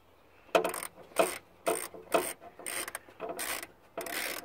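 Ratchet undoing bolts on an Audi Quattro wing, seven quick bursts of clicking ratchet strokes in an even rhythm, fairly close and quiet, no talking.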